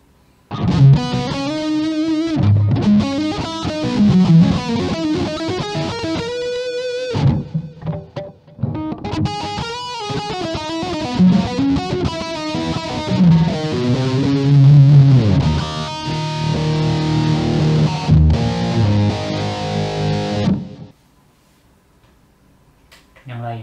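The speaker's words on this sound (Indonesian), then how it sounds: "Oke, udah enak tuh kayaknya delay tuh. Kita pilih tambahin reverb." Electric guitar played through a Zoom G2.1u multi-effect unit set with delay and reverb, a steady run of sustained distorted notes and chords with trailing repeats, loud and continuous for about twenty seconds before fading to quiet.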